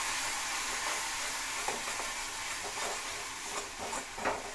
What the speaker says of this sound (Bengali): মশলাটাকে ভালো করে ফ্রাই করতে হবে